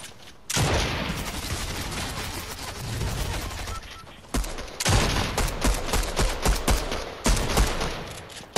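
Gunfire in Fortnite Chapter 3: dense, loud bursts of rapid shots that fill most of the stretch, broken by short pauses and followed by sharper individual cracks near the end.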